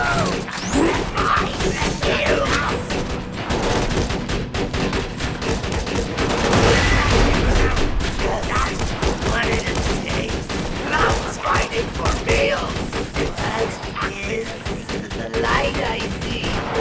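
A deployed turret in Borderlands 2 fires nonstop, its rapid gunfire blending with explosions and crashing impacts into a loud, dense barrage that lasts throughout.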